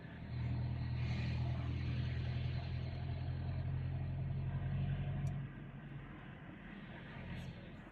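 Steady road-traffic rumble from passing cars and heavier vehicles on a drive near Baguio and Atok, Benguet, a low continuous drone that eases after a few seconds, with people chatting over it.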